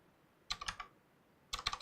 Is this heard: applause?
no